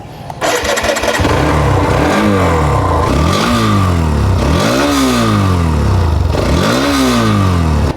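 A Hero Xtreme 125R motorcycle with a 125 cc engine starts and then revs hard in repeated rising-and-falling bursts, loud and close, with no talk over it.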